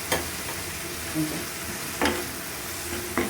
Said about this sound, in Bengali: পেঁয়াজ কুচিটাকে আমি সুন্দর করে ভেজে নিব